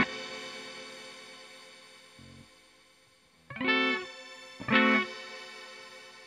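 An electric guitar runs through the reverb effect of a Valeton GP-100 multi-effects pedal, with a fading reverb tail followed by two strummed chords whose bright, distorted wash rings out and decays.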